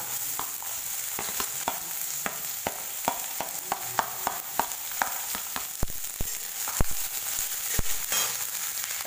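Onions fry in hot oil for mung dal, a steady sizzling hiss broken by frequent sharp pops, crackles and the scrape of stirring throughout, with no speech.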